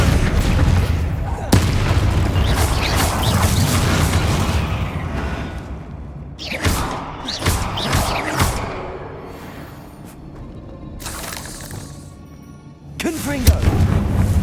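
Repeated heavy booms and bursts from a Bombarda blast spell in Hogwarts Legacy, a loud opening blast followed by several sharp impacts and crackling debris over a dense, rumbling game soundscape.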